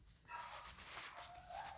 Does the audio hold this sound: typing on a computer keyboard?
no